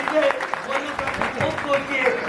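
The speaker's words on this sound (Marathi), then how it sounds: "त्यांच्यासाठी जरा जोरदार टाळ्या वाजवा" Audience applause breaks out in a Buddhist society gathering hall, a short burst of clapping mixed with voices, brisk and fairly loud, rising and falling over two seconds.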